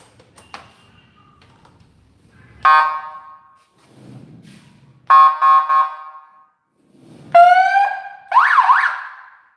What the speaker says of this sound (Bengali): এটাতে কিন্তু আবার ইমার্জেন্সি হর্ন ব্যবহার করা আছে